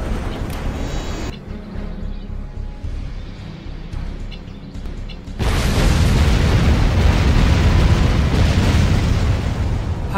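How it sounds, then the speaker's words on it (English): In Command & Conquer, a particle cannon fires: a loud, sustained roaring blast erupts midway after a quieter rumbling stretch, then keeps going as a dense, continuous energy-weapon wash without any talk. "Particle cannon ready. Particle cannon activated."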